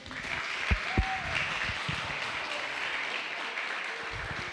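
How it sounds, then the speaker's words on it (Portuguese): A church congregation applauds after a prayer, a steady, fairly faint wash of clapping with a few louder thumps early on and a voice briefly heard underneath. "Aplauda ao Senhor."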